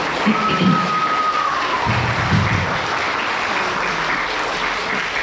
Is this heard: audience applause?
yes